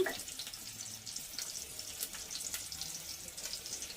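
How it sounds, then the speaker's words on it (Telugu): Chopped onion dropped into hot oil in a pan while cooking greens, giving a soft, steady sizzle and hiss with faint crackles throughout, no voices. "ఫస్ట్ ఆయిల్ కాగింది కదా, మనం ఉల్లిపాయలు వేసేసుకుందాం."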